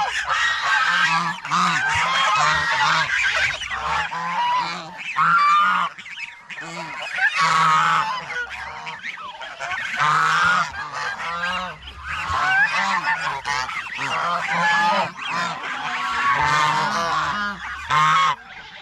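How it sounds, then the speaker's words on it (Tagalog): Farm geese honk loudly and repeatedly at close range in overlapping bursts, with brief pauses between the calls and no talking. "Gansa."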